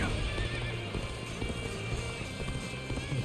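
Horses in the video game Dynasty Warriors Origins gallop with rapid clip-clopping hooves and neigh loudly over dense, constant game sound effects and background noise.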